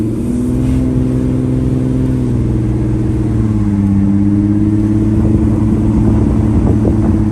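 An Audi A6 C5 with the 2.5 V6, its transmission stuck in fifth gear, drones steadily from up close, the engine note holding a low, even pitch with slight shifts and no voices over it.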